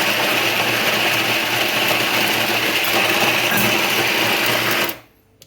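A coffee grinder used with an Isomac Tea Due espresso machine grinds coffee beans with a loud, continuous whirring buzz that runs steadily for about five seconds and then cuts off.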